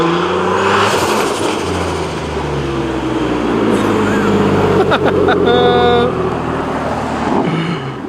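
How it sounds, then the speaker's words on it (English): A turbocharged Nissan 370Z Nismo revs loudly nearby on a road, its engine note rising and falling amid traffic noise, with people talking over it. "I knew that car sounded good, but Lord, it sounds good in person."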